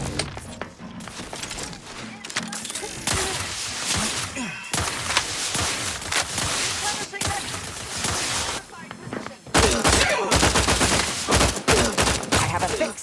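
Gunfire in The Outer Worlds 2, bursts of rapid shots and fusillades loud and near, mixed with game voices and combat effects, with a brief lull before a heavier burst.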